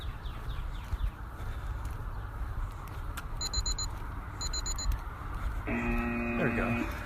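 A timer alarm goes off late with a sustained electronic tone pattern, preceded by short beeping chirps over a muffled, noisy background.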